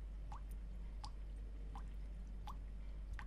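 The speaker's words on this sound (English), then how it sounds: "Leaky faucet." Leaky faucet in a scary video game, single water drops falling at a slow, even pace of roughly one every 0.7 seconds, faint over a low steady hum.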